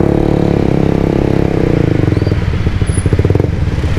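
A Suzuki GSX-R150 motorcycle with an aftermarket exhaust rides up close, its engine revving and then pulsing in a rapid, throaty beat that eases as the rider backs off. The sound is loud and runs alone, with no talk.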